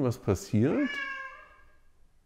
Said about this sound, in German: Ja, das ist meine Katze.